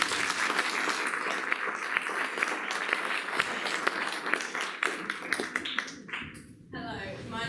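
A hall audience at a Catmose College open evening claps for students in sustained, even applause of many hands, fading near the end as a voice begins to speak.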